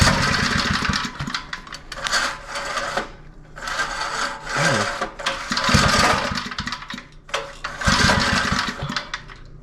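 A broken string-trimmer edger with a small two-stroke engine cranks and sputters through repeated starting attempts, giving loud rough bursts that surge and die back without catching into a steady run.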